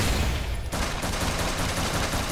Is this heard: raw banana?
no